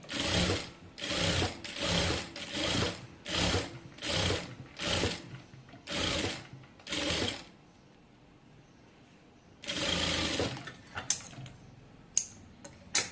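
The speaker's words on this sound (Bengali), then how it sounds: "এই তো দেখুন আমি একটি সেলাই দিয়ে নিলাম।" A sewing machine stitches a folded hem on a Moushumi-style sleeve in quick, rhythmic bursts close by. Several short runs come back to back, then a pause, then one longer run and a few scattered clicks.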